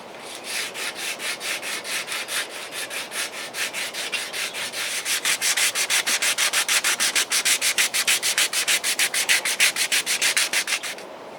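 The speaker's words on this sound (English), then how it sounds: "I've wrapped some 80 grit sandpaper around a paint paddle" Coarse 80 grit sandpaper wrapped around a paint paddle rubs a fiberglass fender on a cruiser bike in rhythmic back-and-forth strokes, loud and close, speeding into quicker, more even strokes halfway through.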